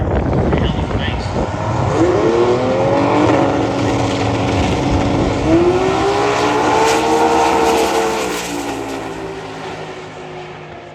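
A 3.8-litre Barra-powered Ford XW race car at a racing event, its engine revving up loudly and changing pitch across several rises, with crowd and commentary noise in the background.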